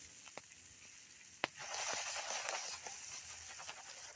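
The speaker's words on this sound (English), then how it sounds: "I hear it sizzling, y'all." Food fries in a pan over an open fire at a cold winter survival shelter, giving a soft continuous sizzle with a few sharp pops and crackles, fairly quiet and close.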